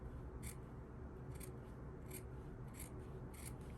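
Scissors snip through a fabric seam allowance on a skirt during grading, with five crisp cuts spaced evenly over a low steady room hum and no talking.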